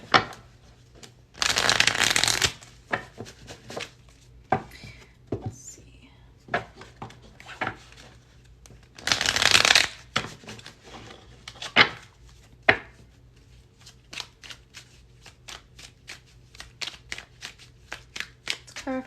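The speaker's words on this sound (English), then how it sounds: "I'm going to clarify these cards now." Tarot cards being shuffled in two long bursts, with scattered softer taps and slides of the deck between them, close and clear, with a soft voice in the background.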